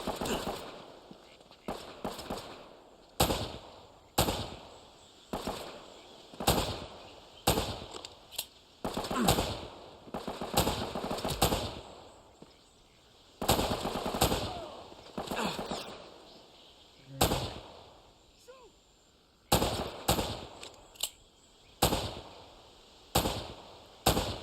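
Repeated sharp gunshot bursts from an AK-47 style rifle in the action game Uncharted: Drake's Fortune, loud cracks arriving in irregular clusters with brief gaps between volleys.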